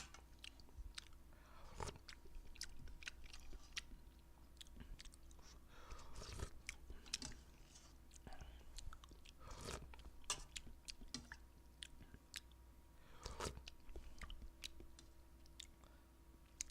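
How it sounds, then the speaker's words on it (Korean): Close-up chewing and slurping of Saengsaeng instant udon noodles during a mukbang, soft wet bites and occasional sharper crunches repeating over a steady low hum. "아니요 지금 잠깐 밥 먹는 거예요"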